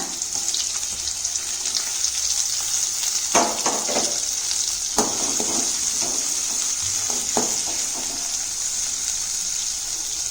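Onion, garlic, curry leaves and asafoetida frying in hot oil for a sundaikkai and methi leaf gravy, a loud, steady crackling sizzle broken by bursts of spatula scraping and stirring.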